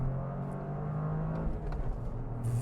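A 2023 Toyota GR Corolla hot hatch accelerating from a roll, a steady engine drone rising gently in pitch inside the cabin, continuous and moderately loud with no talking.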